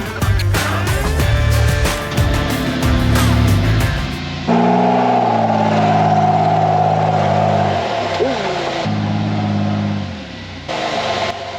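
A rock-crawling off-road rig on 47-inch tires climbs a rock trail at Sand Hollow. Its engine revs and strains in sustained pulls, with pitch steps as the throttle changes, loud and close, with brief breaks between pushes.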